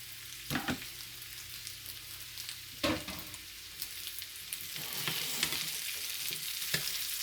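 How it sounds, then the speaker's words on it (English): Onions sliding into a hot skillet with potatoes, giving a steady close sizzle with occasional sharper clatters and stirring scrapes. "now what we're gonna do, we're gonna go ahead and put our onions in"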